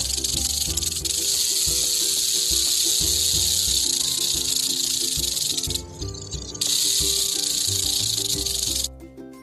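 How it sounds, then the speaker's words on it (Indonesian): A rattlesnake shakes its hollow, horny segmented tail rattle in a loud, continuous buzzing hiss that runs nearly nonstop, breaking off briefly once midway and again near the end, with no voices present. "ekor ular derik tersusun dari zat tanduk, kokoh, berongga, dan berupa ruas-ruas, sehingga dapat menimbulkan suara keras apabila digetarkan"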